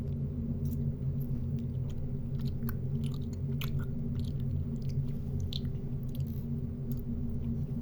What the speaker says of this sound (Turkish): Arkadaşlar bu da jelibonmuş. Hemen tadına bakalım.